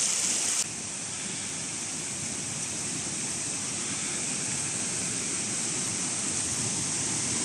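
Constant roar of the Small Chegem waterfalls rushing nearby, a broad steady hiss of falling water with no breaks, loud and unchanging, with a brief louder burst at the start.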